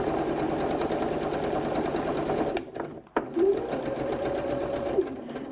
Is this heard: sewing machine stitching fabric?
yes